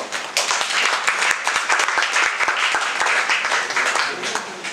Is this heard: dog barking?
no